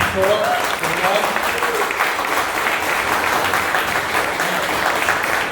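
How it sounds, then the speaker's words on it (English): A room full of people at an artist talk applauds steadily, a dense wash of clapping with a voice briefly audible at the start. "let's give a round of applause."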